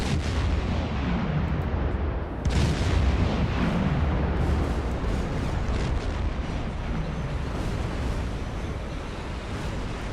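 A torpedo explodes in the submarine game Silent Hunter 3, a loud, sustained roar of blast and rumbling water with a sharp surge partway through, no voices.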